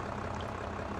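A truck engine starts up in Farming Simulator 22, a steady low rumble filling the short moment with no speech over it.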